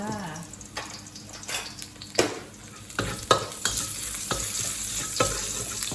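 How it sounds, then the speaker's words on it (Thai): Garlic sizzling in hot oil in a pan while being stirred, with a steady frying hiss broken by repeated scraping clacks of a utensil, close and fairly loud. "ใส่กระเทียมให้สุกก่อนนะคะ"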